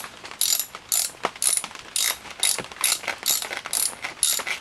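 A ratchet wrench tightens the clutch cover bolts on a dirt bike in loud, close, rhythmic bursts of rapid clicking, repeated about ten times with brief pauses between strokes.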